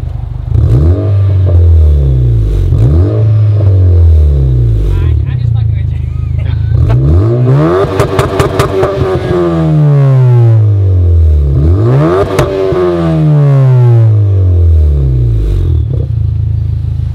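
A tuned 2019 Honda Accord 2.0T with a 6-speed manual revs repeatedly through its exhaust, loud swelling blips rising and falling close by, with crackles between pulls and people talking.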